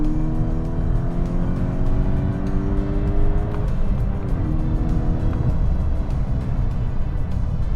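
MK6 Volkswagen GTI accelerating in third gear from about 55 mph, engine note rising steadily as heard from inside the cabin, with a continuous low road rumble underneath.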